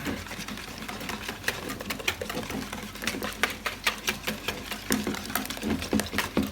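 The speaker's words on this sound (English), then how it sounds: "Give that a good whisk." Cream and egg mixture for carbonara whisked briskly in a bowl, a fast regular clatter of wire against the sides, close and moderately quiet.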